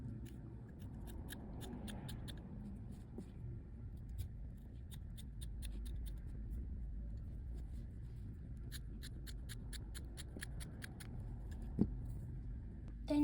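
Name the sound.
scissors cutting a square out of a t-shirt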